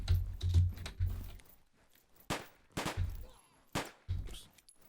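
In a video game under development, SMG gunfire cracks out in short, sharp bursts: a rapid cluster at first, then several separate volleys with brief silences between them.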